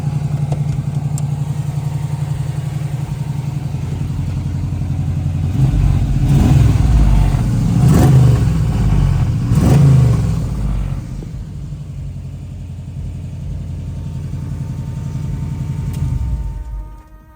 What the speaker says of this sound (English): Chevrolet ZZ4 crate engine, 350